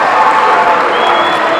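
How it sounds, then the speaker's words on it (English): Applause and cheering fill an arena as a high school basketball team takes the floor before a regional boys championship final, a dense steady wash of clapping from a large crowd. "You hear the crowd's response."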